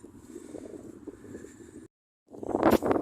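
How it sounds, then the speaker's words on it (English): Broadband wind buffets a microphone, a steady rushing roar that cuts out briefly, then returns in louder, gusting bursts. "Incredibly windy up here."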